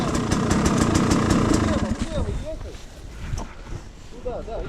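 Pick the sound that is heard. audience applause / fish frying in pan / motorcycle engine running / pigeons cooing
motorcycle engine running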